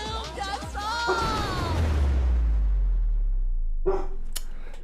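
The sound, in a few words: dog barking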